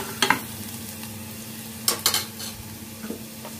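Crushed garlic fries in hot oil in a pan for pakora kadhi, a steady low sizzle broken by a few scraping stirs of a spoon, heard up close with no voices.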